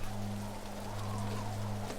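Waterfalls pour down into pools in the Numenera Odyssey game, heard as a dense, steady rain-like hiss and rumble at constant loudness, with a low hum beneath and no talk.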